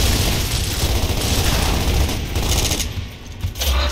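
Sustained automatic Lancer rifle fire in Gears of War, a dense, loud, continuous rattle of shots with booming impacts that briefly eases near the end before resuming.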